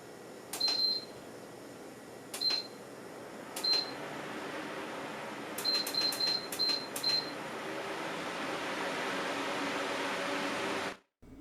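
A MillerTech 1648 16-inch brushless DC oscillating pedestal fan runs on its highest setting, giving a steady broadband whoosh with several short beeps near the start, then cutting off abruptly at the end.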